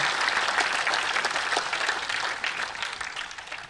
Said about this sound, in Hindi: भाई अमित शाह जी का जोरदार तालियों के साथ इस जयपुर की नगरी में शानदार स्वागत और अभिनंदन करता हूं।